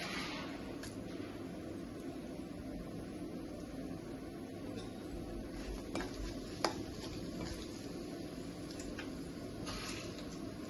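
Dried red chillies, cumin and mustard seeds frying in hot oil for a beetroot fry, a steady soft sizzle with occasional small pops and faint clinks, continuous throughout without talk.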